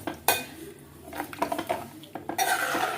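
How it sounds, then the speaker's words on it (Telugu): Egg and okra tamarind curry being stirred in a pot, a spoon clinking and scraping against the metal in repeated close strokes, briefly pausing before a louder run of scraping. "కలుపుకుందామండి ఒకసారి."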